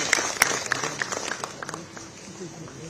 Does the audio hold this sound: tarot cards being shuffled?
no